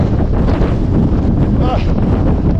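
Strong, gusting wind roars across an exposed hilltop summit at Higher Shelf Stones in the Peak District, buffeting the microphone in a loud, continuous rush throughout.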